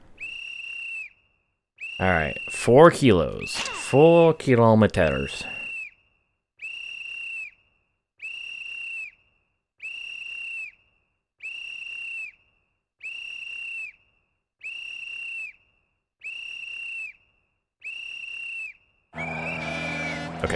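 An in-game whistle from the rally video game WRC: Rally Evolved, a clear steady tone sounding in regular short blasts about once a second; someone talks over the first few blasts.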